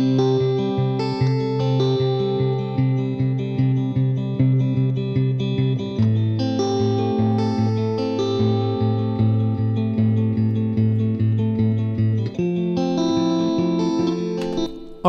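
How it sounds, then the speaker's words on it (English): Reverb from the T-Racks 6 plugin blended with a dry signal on sustained, distorted chord tones. The chords ring with a lingering wash and change every few seconds, with no talking. "blend in my reverb sound"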